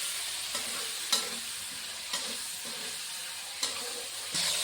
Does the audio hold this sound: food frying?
yes